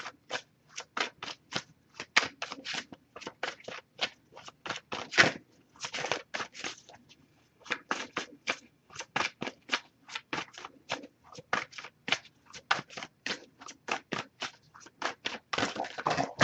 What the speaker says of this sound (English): if I shuffle for a while without any cards coming up